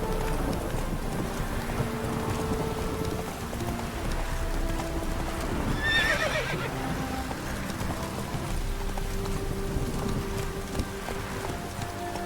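Roach, a horse in The Witcher 3 game, clip-clops along steadily through rain with game music beneath, and a brief higher-pitched burst near the middle may be a whinny.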